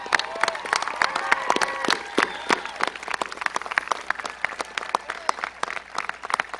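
A graduation audience at Timberlane Regional High School applauds the graduation ensemble with steady clapping that tapers toward scattered claps, while a sustained musical tone lingers at the start.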